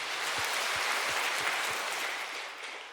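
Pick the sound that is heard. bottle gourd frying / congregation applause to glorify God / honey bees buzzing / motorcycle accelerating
congregation applause to glorify God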